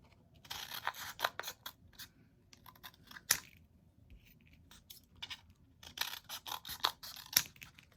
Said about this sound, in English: I could cut this way too and have slightly curved strips.